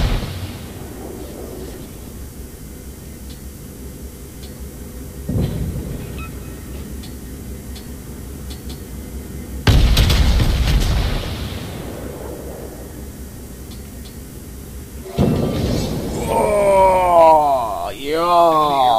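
Warship guns in World of Warships fire armor-piercing shells in three separate heavy booms spaced several seconds apart, each rolling into a low rumble over steady ship and sea ambience.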